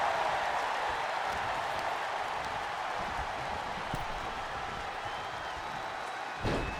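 Steady roar of a wrestling arena crowd in the video game WWE 2K25, a continuous wash of cheering and noise at moderate level with a faint thud near the end.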